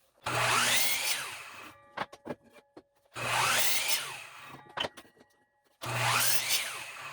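Three long bursts of a power saw cutting through wooden 2x2 boards, separated by short pauses filled with clatter and knocks of handling boards.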